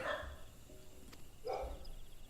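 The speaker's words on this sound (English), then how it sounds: "My dogs are going crazy." Dogs bark in an MMO video game, with two short, sharp bursts, one at the start and one midway, over a quiet steady game background.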